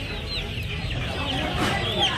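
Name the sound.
chickens at a poultry market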